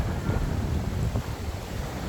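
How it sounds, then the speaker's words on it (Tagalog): Strong wind roars and buffets steadily, a dense low rumble with gusty rushing noise and no voices. "Malakas ang hangin, parang nililipay sa gilid eh."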